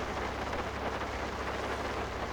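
Rain falls in Farming Simulator 19 and halts a potato harvest, a soft, even patter and hiss that carries on unbroken at low volume.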